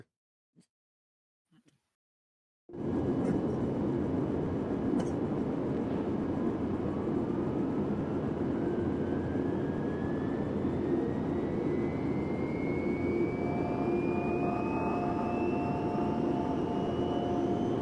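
Bomber aircraft engines in a video game, approaching a refinery: a steady, loud engine drone starts abruptly after near silence and holds at full level, with a slowly rising whine across it.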